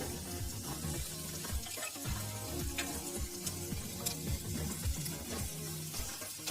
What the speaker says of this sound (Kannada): ಈರುಳ್ಳಿನ ನಾವು ಸೇರಿಸಿದ ನಂತರ ಮೂರಿಂದ ನಾಲ್ಕು ನಿಮಿಷಗಳ ಕಾಲ ಚೆನ್ನಾಗಿ ಫ್ರೈ ಮಾಡ್ಕೋಬೇಕಾಗುತ್ತೆ